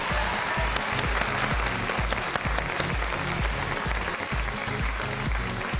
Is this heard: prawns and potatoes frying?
no